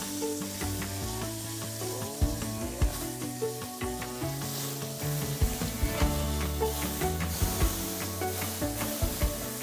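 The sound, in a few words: steaks searing in a pan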